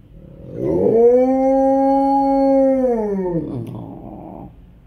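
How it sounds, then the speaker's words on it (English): An Alaskan Malamute gives a single long, sustained morning howl, close and loud, with steady rich harmonics that rise at the start and fall away after about three seconds, framed by softer breathy yips. "Love those morning howls."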